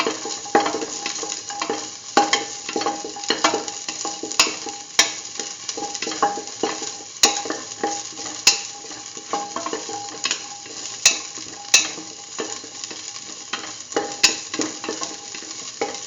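Lentils and potatoes sautéing for a Hausa stew, a steady sizzle broken by repeated scraping and clinking strokes of a spoon against the pot at an uneven rhythm, close and fairly loud, with no talking.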